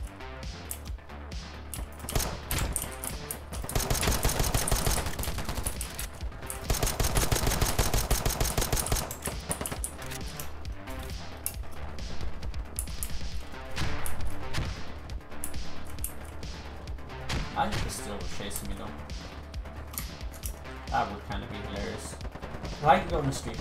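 Rapid pistol gunfire from a Glock in the shooter game Polygon, bursts of dense shots with loud sustained stretches around the middle, mixed with game sounds and someone talking over the action.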